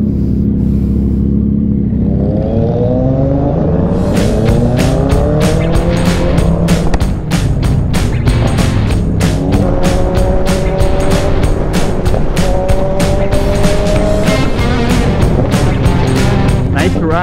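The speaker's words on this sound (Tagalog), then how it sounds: "Ang ganda ng mga motor ng Ducati." Ducati motorcycles roar past in a loud, continuous stream, engines revving and whining up and down in pitch as the bikes go by one after another.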